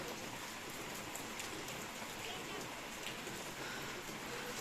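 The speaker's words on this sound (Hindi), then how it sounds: "और एकदम से अचानक से आई बारिश।" Sudden heavy rain falls at an outdoor village gathering in Uttarakhand, a dense steady hiss of drops hitting surfaces throughout with no break.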